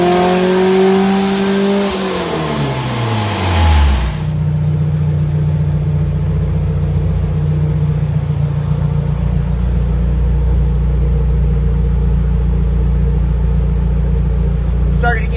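A 1992 Honda Civic Si hatchback with a turbocharged B18C1 engine revs hard on a dyno, climbing then dropping off before settling into a steady loud idle drone.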